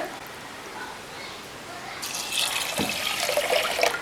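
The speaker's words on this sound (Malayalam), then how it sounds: "ഇനി നമുക്കതിലേക്ക് വെള്ളം ചേർത്ത് കൊടുക്കാം." Water poured into a pressure cooker holding rice for a temple-style jaggery payasam, three glasses added; a steady splashing pour starts midway and grows louder, with a brief knock as it begins.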